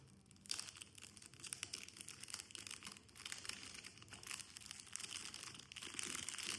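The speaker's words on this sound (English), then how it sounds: "Let's just take out the cellophane." Faint, close crinkling and tearing as cellophane wrapping is pulled off a Rabanne Invictus Aqua perfume box, a travel retail tester, with irregular rustles continuing through the quiet stretch.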